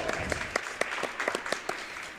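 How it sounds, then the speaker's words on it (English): Gym crowd at a girls' varsity high school basketball game applauding the game officials: a moderate, steady wash of clapping with a few sharper individual claps standing out, heard somewhat distant across the hall. "Let's give our officials a round of applause."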